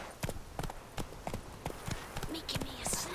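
Roach the horse galloping in The Witcher 3, a rhythmic run of hoof clip-clops recurring about every half second, fairly close, with a voice speaking over it.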